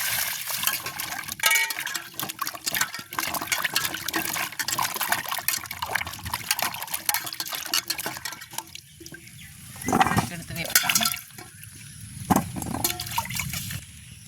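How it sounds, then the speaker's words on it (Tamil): Water sloshes and splashes as peeled cassava is rinsed by hand, with occasional clunks of a container and bursts of pouring, close by. "இது ஒருக்கா இன்னொருக்கா நாங்கள் தண்ணியில் கழுவ போகிறோம்"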